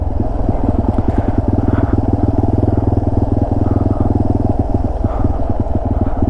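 A Yamaha TW200 motorcycle putters along at low speed through Woodland Park woods, its single-cylinder engine thumping in a steady, close, loud rhythm with slight shifts in pace.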